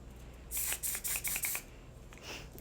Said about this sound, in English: This literally sprays on your face like freaking hairspray.